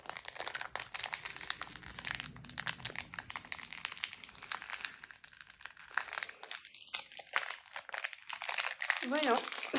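Plastic packaging of a Doorables toy crinkles and crackles continuously as it is pried open by hand, fairly close and busy, with a person talking briefly over it.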